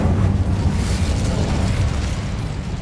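A fire spell, Incendio, cast in the game Hogwarts Legacy, gives a loud, steady low roaring rumble that holds for about three seconds with no clear breaks.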